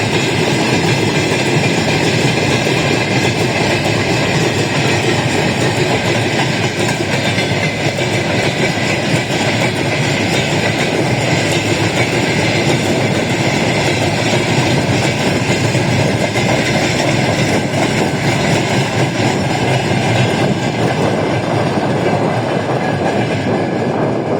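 A very long freight train rolls steadily past nearby, a continuous loud rumble of wagons with rhythmic clatter from the wheels throughout.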